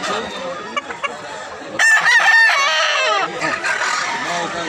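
A rooster crows loudly and nearby among clucking chickens at a Cebu fowl market, with a long rising crow in the middle and sporadic clucks around it, while people talk in the background.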